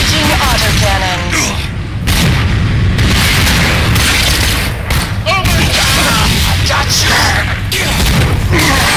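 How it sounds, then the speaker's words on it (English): Rapid heavy auto cannon fire in Borderlands 2 booms continuously with dense, punchy blasts and crashes, loud and close, while a voice speaks now and then underneath. "Enemy in range, engaging auto cannons."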